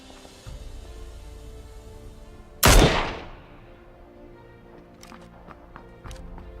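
A single sharp gunshot cracks in the middle of a PUBG battle royale match, loud and close with a quick decaying tail, amid faint game ambience and distant thuds.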